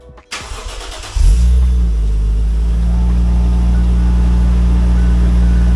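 A Toyota JZX100 Chaser engine with a new downpipe cranks briefly, then catches and settles into a loud, steady idle that runs to the end.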